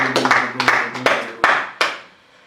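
Church congregation clapping hands in praise during a worship service, a run of loud claps in irregular bursts over a low sustained tone, fading out toward the end.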